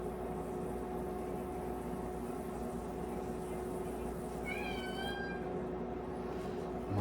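A cat named Jack gives a single short meow in a garage, wanting to be let outside, heard faintly over a constant humming, hissing background of cooking chicken.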